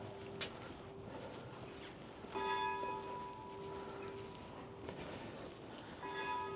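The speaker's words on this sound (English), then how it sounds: "bell is chiming for coming up to 10 o'clock." A church bell rings in slow, steady strokes approaching 10 o'clock at Dunham Massey, over outdoor ambience with light wind, the tones ringing out and overlapping as they decay.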